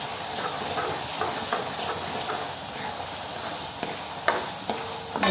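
Garlic fries in hot oil for mutton curry, a steady loud close sizzle and hiss with occasional clinks of a utensil.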